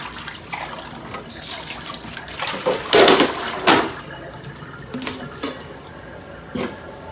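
Fresh herbs being washed at a kitchen sink for a heirloom tomato ratatouille, with water splashing and sloshing in bursts, a few louder swishes midway, and light clinks of dishes nearby, close and without talk.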